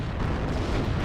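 In the video game WARNO, tanks fire on infantry amid a dense, continuous roar of explosions and artillery-like booms, loud and without pause.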